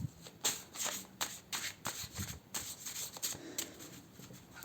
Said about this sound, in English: the reason why I'm shuffling these cards in front of the camera and the others not is because they are of a thicker paper